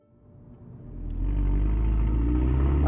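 A revised Mercedes-Benz A45 AMG hatchback with a 380-horsepower engine is driven, its deep engine rumble swelling over the first second and then holding at a loud, steady drone.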